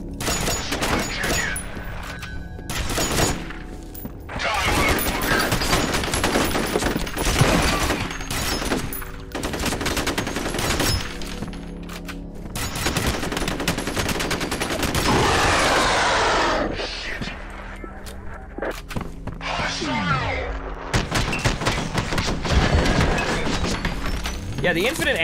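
Gunfire in the PC shooter F.E.A.R., repeated bursts of automatic weapon fire and single shots in irregular clusters over about twenty-five seconds, loud and close, with game effects between bursts.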